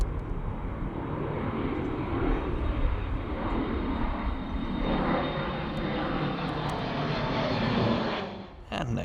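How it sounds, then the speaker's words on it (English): An Embraer jet airliner passes at Amsterdam Schiphol, a broad, loud engine roar holding steady for several seconds before easing off, with a faint high whine above it and light background voices. "Enjoy a Embraer instead."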